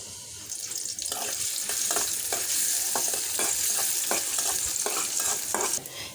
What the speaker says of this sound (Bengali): কড়াইতে দিয়ে দিচ্ছি তেল, দিয়ে দিচ্ছি পেঁয়াজ